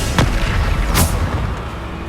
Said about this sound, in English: Bombarda.